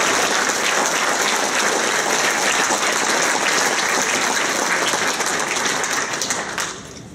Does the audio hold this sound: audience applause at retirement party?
yes